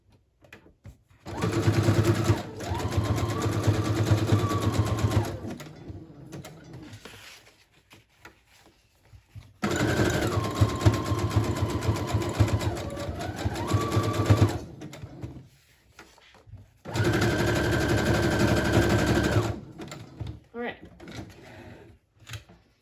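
A sewing machine stitches a pamphlet cover onto an inner pocket in three loud, steady whirring runs of several seconds each, with quiet pauses and handling noise between them.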